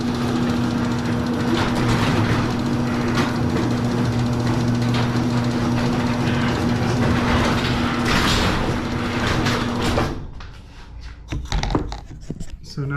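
A garage door opener drives the door closed with a steady motor drone and hum for about ten seconds, then cuts off abruptly, leaving a few faint clicks and thumps.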